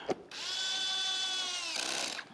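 An electric screwdriver driving screws into plastic on a Yamaha MT-07 motorcycle, a close, steady high whine of about a second and a half, starting and stopping abruptly, with no speech.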